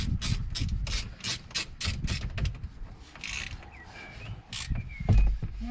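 A nut being started and tightened on the left door mirror of a 2003 Volvo XC90, giving close rhythmic ratcheting and scraping clicks, then softer rubbing and fiddling, with no talk.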